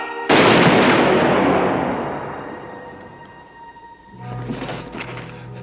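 A rifle volley from a firing squad in a film, one loud sudden crack that rolls into a long decaying echo, then a lower rumble of movement and noise as it fades.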